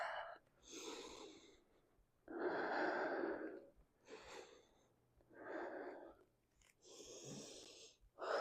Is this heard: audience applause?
no